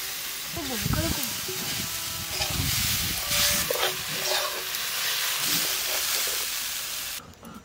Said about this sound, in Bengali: নারকেল কুড়াটা কড়াই ঢেলে দিলাম।